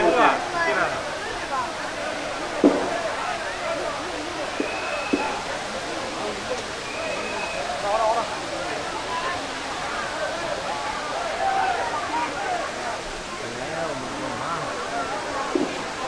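Rushing water at the Five Falls of Kutralam, with the flow reduced: a steady broadband roar runs throughout, with a few brief knocks and faint tonal sounds over it.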